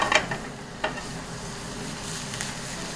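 Butter sizzles in a restaurant pan with garlic, a steady close frying hiss punctuated by a few sharp crackles and stirring scrapes near the start.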